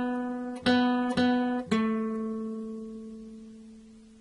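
Guitar picking three notes on the open second string for Baa Baa Black Sheep, three evenly spaced plucks that ring on and fade slowly, played alone without talk.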